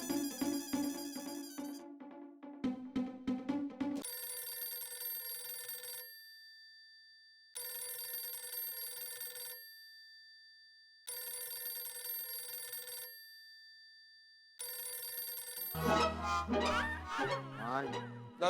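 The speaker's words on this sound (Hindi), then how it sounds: "जेठिया को फोन लगा।" A telephone rings in repeated bursts of an electronic bell tone separated by short pauses, preceded by a few plucked musical notes and ending in a swell of music, in a Hindi TV sitcom household.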